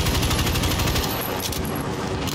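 Rifle gunfire in the Warzone video game, with dense, rapid, loud shots rattling on continuously with no break.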